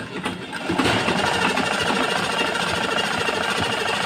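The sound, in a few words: sewing machine stitching a blouse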